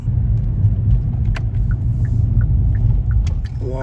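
A car heads off to collect a food delivery order in Fort Worth traffic. A deep, continuous road rumble fills the cabin, with a few faint clicks and small noises on top.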